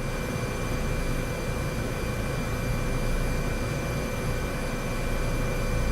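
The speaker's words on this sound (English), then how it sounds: "Okay, helicopter is stable." Engine and rotor drone of a Eurocopter H225 Super Puma helicopter in Microsoft Flight Simulator 2024, a loud, steady turbine roar with a high whine running unbroken throughout, no voices.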